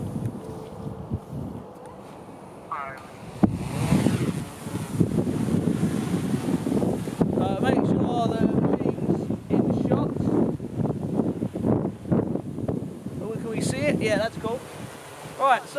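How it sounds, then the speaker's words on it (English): Steady wind buffets the microphone with a rough, blustery roar, while a person talks over it for most of the stretch. "It's quite windy today."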